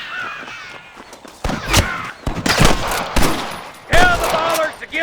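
Sniper rifles fire in a Red Dead Redemption shootout as sharp, loud shots in irregular bursts, mixed with shouting voices and a crow-like cry.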